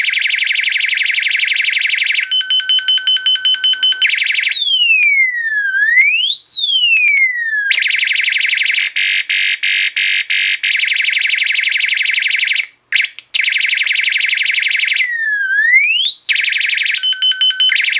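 A loud UM3561A alarm sound generator chip through a simple audio amplifier cycles through piercing tones: steady shrill beeps, rapid warbles and rising-falling siren sweeps, harsh and close through a speaker.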